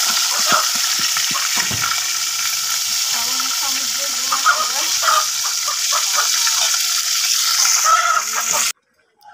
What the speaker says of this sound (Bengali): যে দেখেন আমি মাছগুলো ভেজে তুলে নিচ্ছি।